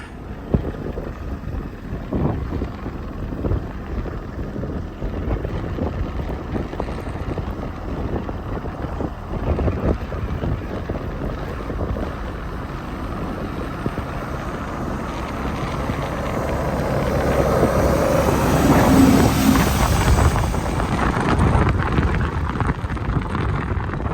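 A steady tractor engine drone with heavy wind buffeting the microphone during a snowstorm, growing slightly louder toward the end, with no voices.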